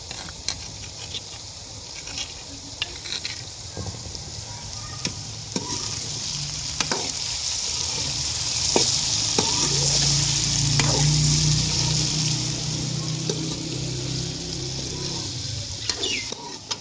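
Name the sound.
onions, tomatoes and green chillies frying with okra in a pan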